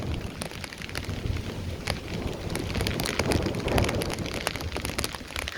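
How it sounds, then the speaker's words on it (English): Hurricane Ian blows through College Park in Orlando, Florida, with constant gusting wind buffeting the microphone and rain-like hiss, interrupted by scattered sharp crackles and thumps, and no one speaks. "But the wind is picking up."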